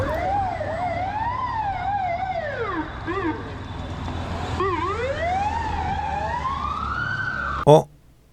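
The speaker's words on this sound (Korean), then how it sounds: "또 사고가 났는지 앰뷸런스가 또 급하게 올라가고 있습니다." An ambulance siren rises and falls steadily for several seconds over traffic rumble on a road during a cycling gran fondo, then cuts off with a sharp thump at the end.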